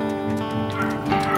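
Dogs at home give short yips and whimpering whines at close range in a quick, brief burst.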